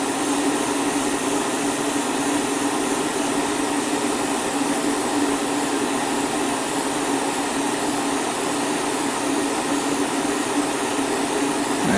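Airbrush spraying Alclad 2 metallic paint at 20 to 25 psi, a constant loud hiss of air that runs unbroken and close with no pauses.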